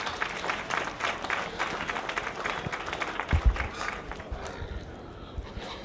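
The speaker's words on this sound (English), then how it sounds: "Let's give these kids all a big round of applause." Crowd applause at a 4-H/FFA youth swine show, a broad steady patter of many hands clapping across the whole stretch with a few louder thumps and some background murmur mixed in.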